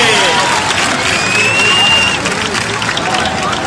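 Spectators at a recortadores bull-leaping contest in Losar de la Vera clap and cheer for a performer, a thick continuous wash of applause and crowd babble with voices and a whistle-like tone over it.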